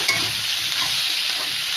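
Dried lotia fish bhuna with garlic, turmeric and salt fries in a pan, a steady dense sizzle with scraping stir strokes, close and loud throughout.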